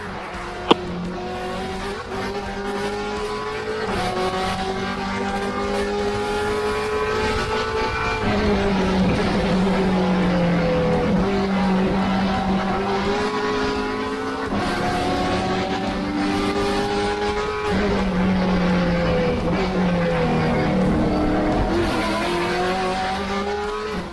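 TA2 race cars at Road Atlanta roar past in a continuous loud pack, engines rising and falling through gear changes over the full stretch, with tires squealing at times and no talk.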